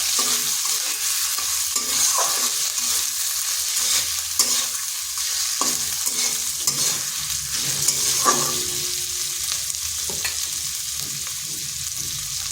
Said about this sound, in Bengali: এগুলোকে একটু ভেজে নিচ্ছি যাতে আদার কাঁচা গন্ধটা চলে যায়।